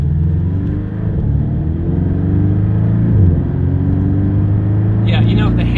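A Porsche 718 Boxster S four-cylinder engine hums and revs with a deep, throaty rumble that rises and falls steadily, sounding close and loud throughout.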